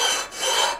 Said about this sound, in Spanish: Lo que estaba haciendo era pasarle un poco esta piedra que tengo ahí dando vuelta